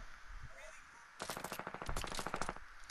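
Video game gunfire, a rapid burst of sharp repeated shots with a heavy sniper nearby, with faint voice and game noise underneath before the shooting starts.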